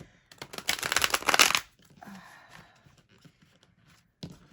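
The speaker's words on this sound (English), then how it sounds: "Let's try a regular shuffle. They're very stiff." A deck of stiff, new tarot cards being shuffled by hand: one dense, loud riffle of flapping card noise lasting about a second, then quiet handling rustles and a short final tap, close up with no speech.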